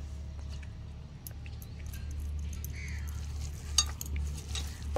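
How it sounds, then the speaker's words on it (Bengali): Egg Maggi pakora batter of egg and flour is kneaded by hand in a bowl, giving soft, faint squelching and light clicking close by, with no voices. "এবার ভালো করে মেখে নিচ্ছি।"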